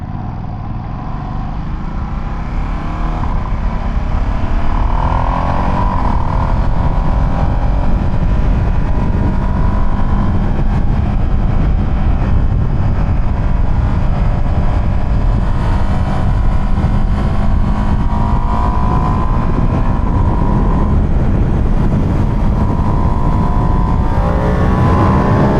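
A truck engine pulls hard and accelerates continuously, a loud, close, sustained roar with rising whine and rushing road and wind noise throughout, no talking.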